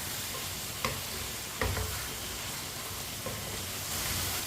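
Chopped turnips cook on high flame in a pan, giving a faint steady sizzle with a few soft clicks and scrapes of stirring, and no talking.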